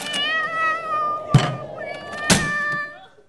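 A cat meows in a drawn-out, wavering cry, broken by two sharp thumps, then trails off.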